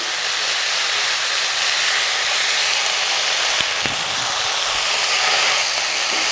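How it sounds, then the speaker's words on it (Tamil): A bunch of coriander leaves sautés in a pan for tomato chutney, a loud, steady, broad hiss of sizzling throughout with one or two faint knocks. "இதை போட்டு நல்லா வதக்கிக்கலாம்"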